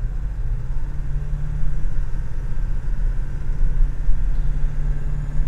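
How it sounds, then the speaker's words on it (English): A 2016 Ford F350 Super Duty pickup with a 6.7 diesel engine pulling away from a stoplight, heard from inside the cab as a steady low engine drone and road rumble that swells slightly, with no talk. "So here's just acceleration from a stoplight."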